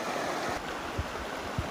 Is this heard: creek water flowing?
yes